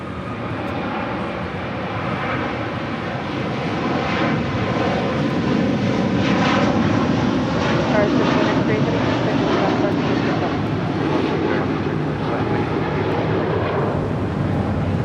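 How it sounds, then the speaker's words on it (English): A Qatar Airways Airbus A350-1000 in oneworld livery departs Los Angeles International for Doha, a broad steady jet roar that builds gently and holds at moderate distance for the whole stretch. "This is Qatar Airways Flight 742 departing to Doha on the A350-1000 in the One World livery."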